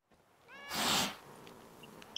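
A cat in The Witcher 3 gives a single drawn-out meow, rising and then fading, followed by quiet game ambience with a few faint clicks.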